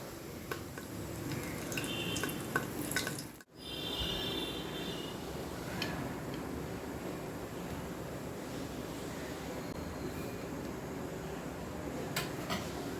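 Ingredients sizzle in hot sesame and groundnut oil in a pan while mutton dalcha is cooked, a steady close-up frying hiss that drops out briefly for a moment before resuming evenly.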